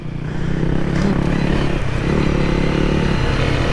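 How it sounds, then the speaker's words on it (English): A dirt bike rides over obstacles on a forest trail in Wayne National Forest, its engine revving loudly and continuously up close, with clattering and scraping as it crosses the rough ground. "Just stand up and crack the throttle."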